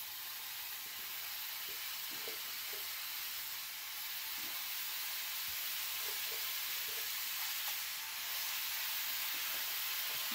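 Mushrooms sizzling in a frying pan with coconut, a steady soft hiss and crackle continuing for about ten seconds with faint occasional stirring, quiet and close without talking.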